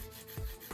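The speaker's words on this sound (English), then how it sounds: "Need to go ahead and file." Acrylic practice nails being shaped with a hand nail file, giving a quiet, steady rasping rub with a few stronger strokes, close up and with no talking.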